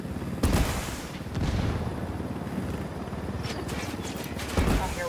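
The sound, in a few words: gunfire in the video game Tom Clancy's Wildlands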